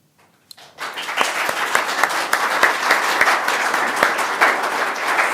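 Audience applause fills a candidate forum hall, a sustained wash of many hands clapping that rises suddenly and holds steady at moderate loudness, with no talk over it.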